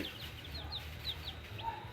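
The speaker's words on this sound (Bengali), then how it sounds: "পোলট্রি মুরগি" Broiler poultry chickens, three-day-old chicks on a farm, give short high cheeps and clucks scattered through the clip over a steady low background hum, with no talking.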